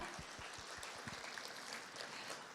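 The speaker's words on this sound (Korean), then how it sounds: "큰 박수 서로 부탁드리겠습니다." Audience applause at the opening ceremony of a Korean marine science and technology joint academic conference, a steady low wash of distant clapping throughout with no talk over it.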